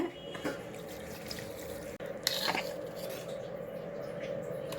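Water trickles and splashes faintly into a mixer grinder jar holding amla chutney ingredients, with light clinks and patters over a low steady background.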